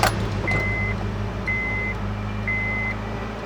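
A daily driver car partway through a turbocharger install, with its intake removed, runs at a steady idle close by, while an electronic chime beeps about once a second over the engine hum. No one speaks.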